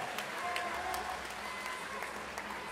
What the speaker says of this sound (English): another round of applause for a great